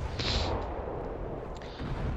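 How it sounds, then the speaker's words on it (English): A Petya class frigate's naval gun fires in the War Thunder naval combat game, a couple of heavy muffled booms over a constant rumbling engine and sea wash, with no talk. "And the sound of the gun is also really really good."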